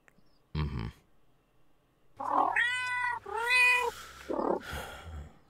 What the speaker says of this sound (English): Oh, don't mind my cat.